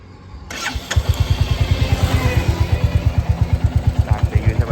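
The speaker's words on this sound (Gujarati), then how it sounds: "સ્ટાર્ટ થઈ ગયું છે બાઇક." A brand-new 2025 Royal Enfield 350 Military Black motorcycle cranks and fires up, settling at once into a loud, close, steady thumping idle with evenly spaced beats.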